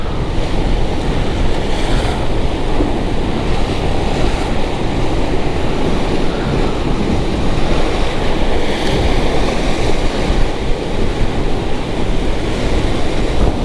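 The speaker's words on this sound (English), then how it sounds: "Might be a little bit too much wind, because I'm high up" Strong wind buffets a high coastal fishing spot above the sea, a loud continuous roar of gusts and microphone rumble with breaking waves underneath, no talking.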